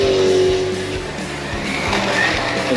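Porsche 911 slot cars whirring around a track in a close race, a steady electric motor whine with tire squeal and skidding hiss swelling and fading as the cars pass, with faint voices in the background.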